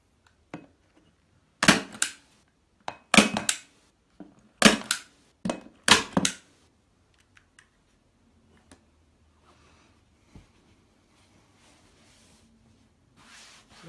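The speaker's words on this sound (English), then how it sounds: "put another row of staples round just to make sure that the cover won't pull off" Staple gun driving a second row of staples through a fabric cover into a chair seat, about eight sharp close snaps in quick pairs and groups, then quiet handling and faint rustling.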